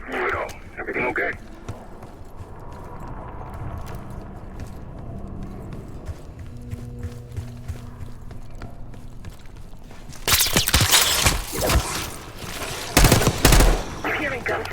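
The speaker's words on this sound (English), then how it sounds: "You hearing gunfire?" Gunfire in the video game Black Ops 6 crackles from a distance as scattered shots, then swells into loud rapid bursts near the end, with game dialogue around it.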